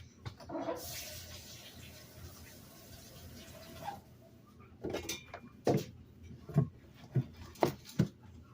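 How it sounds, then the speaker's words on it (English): Hands rinsed under a running kitchen tap: a few seconds of soft, steady water rush, then quieter clinks and knocks of dishes and utensils near the sink. "Let me wash my hands off."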